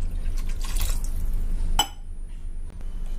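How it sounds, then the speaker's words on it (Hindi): Water poured into a drinking glass while preparing a bottle gourd health drink, a brief splashing rush that ends with a sharp clink, followed by quiet kitchen room tone. "चलिए हम ये जो ग्लास है इसका आधा पानी डालते हैं"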